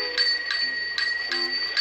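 A ship's bell strikes in a quick series of bright, ringing dings, each followed by a short sustained tone, close and clear with no talk.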